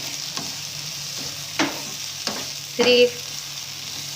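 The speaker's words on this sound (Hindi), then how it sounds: "मैंने इसमें बाकी सब्जियां डाल के भी उसे हल्का सा हम सौते करेंगे" Sprouts, onion and mixed vegetables including carrot sautéing in a pan, with a soft sizzle under a few sharp scrapes and stirring knocks, plus a brief spoken word.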